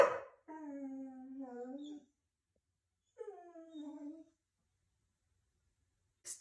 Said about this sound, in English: Hopefully my dogs are not going to bark too loud.